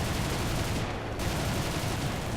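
Fiat G55 fighter guns firing in the War Thunder video game, a steady dense hammering burst that runs without a break at close range, loud and continuous.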